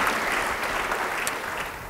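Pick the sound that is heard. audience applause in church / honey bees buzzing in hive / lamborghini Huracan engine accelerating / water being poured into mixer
audience applause in church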